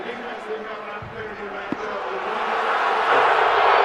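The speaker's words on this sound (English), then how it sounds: "Well, the crowd doesn't like that at all, Matt." A college football stadium crowd roars in disapproval after a call, a broad sustained wash of voices that swells louder toward the end, with a commentator talking over it.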